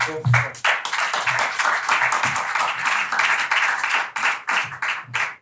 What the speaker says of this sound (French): Je voudrais qu'on applaudisse une fois de plus.